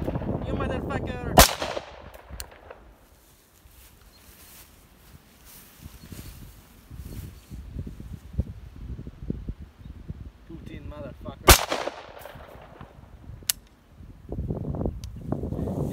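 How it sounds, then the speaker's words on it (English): Guns fired outdoors on a camping trip: two loud, sharp shots spaced well apart, each ringing out across the open air, with wind, rustling and people talking and shouting between them. "Oh boy, that's some good shooting."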